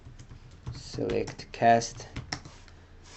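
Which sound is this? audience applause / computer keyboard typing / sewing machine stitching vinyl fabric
computer keyboard typing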